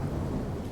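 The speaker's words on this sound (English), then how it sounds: "shivering in the cold rain." Thunderstorm with cold rain: a steady low rumble of thunder over a dense, continuous rain wash, close and enveloping, with no voices.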